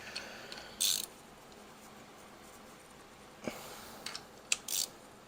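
Wrench tightening bolts on an aluminum timing cover of a Ford 302 small-block V8, heard as a few short, sharp ratcheting bursts spaced apart over a quiet background.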